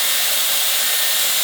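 Dyson Airwrap blowing hot air onto hair as a curl is heated, a steady, loud, close hiss of rushing air with no other sounds.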